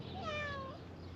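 A single drawn-out cat meow rises and falls clearly over steady outdoor background noise at a pasture, moderately close and without voices.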